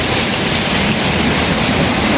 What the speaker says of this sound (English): See, it's coming from there and it's going. It's flowing water.